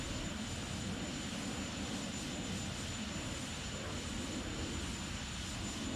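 An Alpha Jet's engine during a climb in X-Plane 11, a steady, even roar with a broad rumbling body and a faint high whine, constant in level without change.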